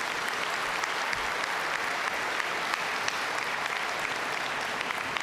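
A commencement ceremony audience claps steadily for about five seconds, with dense, even applause from a large crowd and no pauses.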